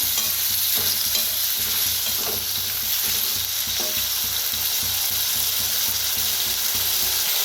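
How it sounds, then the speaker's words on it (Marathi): Potatoes frying in hot oil with a steady, loud sizzle, joined by repeated clicking scrapes of a spatula stirring them in the pan throughout. "बटाटे चांगलं भाजून घेऊया तेलात।"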